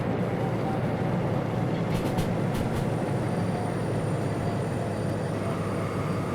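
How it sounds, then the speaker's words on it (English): A DM3 locomotive in the Derail Valley train simulator rumbles with a dense, steady roar, and a few faint high brake squeals rise briefly about two seconds in. "Get some train brakes on again."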